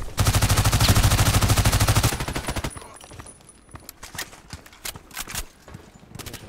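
A PDR-C submachine gun in the Contract Wars shooter fires a long, fast, evenly spaced burst, then gives way to shorter scattered shots and bursts that sound farther off.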